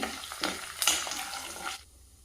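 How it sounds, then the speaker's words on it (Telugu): Urad dal frying in a pan, a close sizzle with scraping stir strokes that rises in short bursts, then the frying noise cuts out abruptly near the end, leaving quiet. "మినప్పప్పు పప్పు కలర్ మారేదాకా ఫ్రై చేయాలి"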